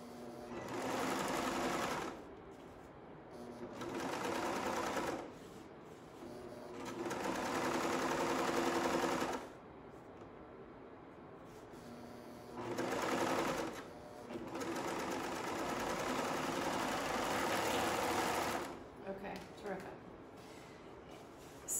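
A serger stitches neck tape onto a front bodice in several loud, steady bursts of rapid whirring, a few seconds each, separated by short pauses.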